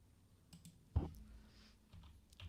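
Keys on a computer keyboard are pressed with faint, sparse clicks and one sharper thump near the middle, quiet and close with no talking.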